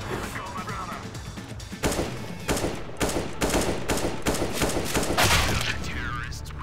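Rapid pistol gunfire from CS:GO played with PS5 motion controls, a string of sharp shots over a busy game mix, with speech at moments.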